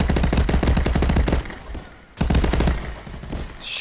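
Rapid automatic gunfire from the VR shooter Contractors on Meta Quest, with a loud stream of close, evenly spaced shots, a short lull, then another burst of firing.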